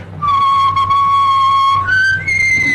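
A single person whistles one long, steady, loud tone in a 1930s comedy scene, then steps up in pitch twice near the end, with no talking over it.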